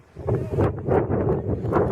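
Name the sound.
wind blowing on the microphone outdoors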